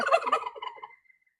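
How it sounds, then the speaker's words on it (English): A riled-up pet turkey gobbling: one rapid, rattling burst of gobbles lasting under a second, fading into a short tail and heard fairly close and alone. "this woodpecker has got my turkey all riled up."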